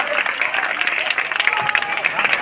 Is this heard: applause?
yes